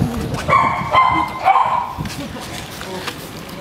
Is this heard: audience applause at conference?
no